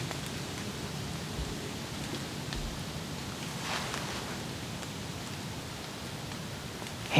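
Steady rain falling on leaves in Kentucky woods during a deer hunt, a soft continuous patter and hiss with no break, moderately quiet and even throughout.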